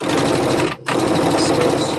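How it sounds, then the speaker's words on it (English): A sewing machine edge stitches shorts made from a KnowMe ME2069 pattern, running loud and close in a rapid steady whir that breaks off for a split second and then resumes. "now I'm going to edge stitch."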